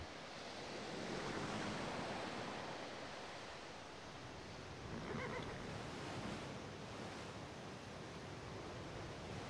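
Broad, steady rush of ocean surf in Civilization V, a continuous wash of waves with gentle swells in level and no voices.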